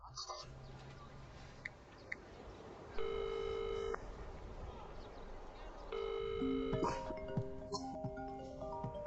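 A phone rings in two electronic tone bursts a few seconds apart, followed by beeping tones, with faint talk underneath.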